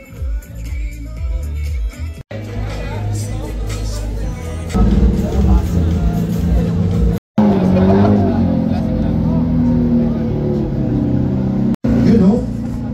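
JDM street cars at a car meet, some fitted with body kits, rev their engines loudly and steadily while people talk nearby.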